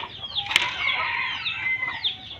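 A flock of backyard chickens clucks and squawks close by, with a burst of wing flapping near the start and steady busy clucking throughout.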